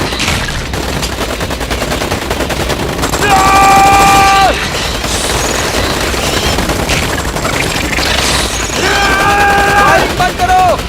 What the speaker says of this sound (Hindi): फायरिंग बंद करो।